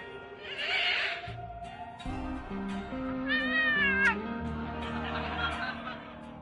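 Cartoonish cat meows playing from a TV show inside the adventure game Thimbleweed Park, several wavering mewls over background game music and ambience, moderately loud and close.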